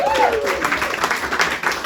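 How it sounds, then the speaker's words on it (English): A comedy club audience claps and cheers loudly and continuously while a whistle-like tone slides downward at the start. "Give yourselves a round of applause for being so fantastic."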